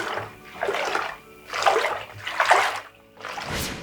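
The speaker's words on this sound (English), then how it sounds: "the sound the water made when I swished it in the bath" Bath water swished back and forth in a domestic bathtub, making four broad sloshing surges about a second apart, close and fairly loud, with no talk.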